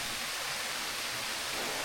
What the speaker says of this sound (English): Oh, we got to cross the waterfall.